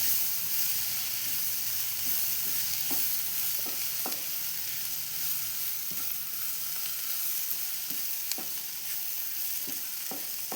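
Onions sauté in oil in a pan for onion vada. A steady, loud sizzle continues throughout, with occasional light taps and scrapes from stirring.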